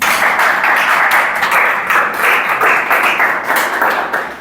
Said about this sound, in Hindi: ताली बजाओ एक लिए